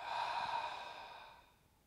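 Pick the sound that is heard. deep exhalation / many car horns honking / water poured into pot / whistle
deep exhalation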